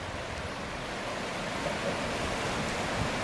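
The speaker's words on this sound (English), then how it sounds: "You can see how forcefully the water is coming underneath that bridge." Mississippi floodwater surges hard beneath a bridge at ground level, a steady broadband rush and roar that stays close and loud throughout, with no voices over it.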